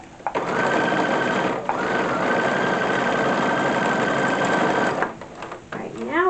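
A sewing machine stitches lace onto an 1880s bustle overskirt, running as a loud, steady motor whir for about five seconds, with one brief dip in speed before it stops.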